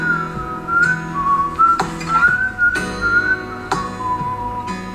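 Melodic whistling in a song, a clear bright tune carried over the music's instrumental backing, steady and prominent throughout.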